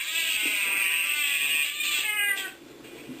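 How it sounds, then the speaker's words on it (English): A cat meows in a film scene, one drawn-out, wavering cry lasting a couple of seconds and then fading, close and clear with nothing else in the way. "Drunken cat."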